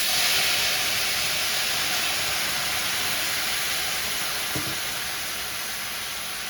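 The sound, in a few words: brandy deglazing a hot pan for mushroom risotto, sizzling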